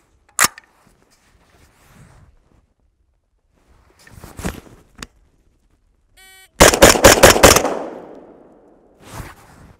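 Q Bottle Rocket air gun firing: a sharp crack early, then a tight burst of about five rapid shots with a ringing tail, separated by quiet handling and faint clicks.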